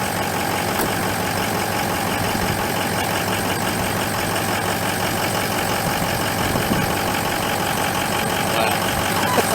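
Engine idling steadily after a fuel additive treatment, a continuous even rumble with a mechanical hum, close by and unchanging, with no talk over it.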